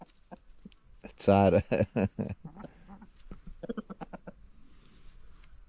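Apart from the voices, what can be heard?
rooster and chickens clucking on a farm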